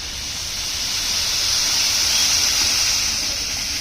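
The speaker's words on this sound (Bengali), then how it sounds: "এখন পরিমাণ মতো পানি দিয়ে দেবো" Water poured into a pot of frying rice, lentils and potato for chili khichuri, a loud, steady rushing hiss of pouring and steam rising slightly and holding.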